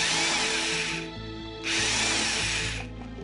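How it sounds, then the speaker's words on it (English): A power drill bores a row of holes through a gourd mask, its loud whining motor running close in two long bursts separated by a short lower-pitched dip as the bit bites into the dried gourd. "I'm going to drill a row of holes across the top"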